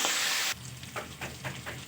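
Fish oil fries in hot oil with turmeric and salt for a bitter gourd and potato dish, a bright burst of hissing sizzle at first, then settling to a quieter crackle with soft stirring scrapes.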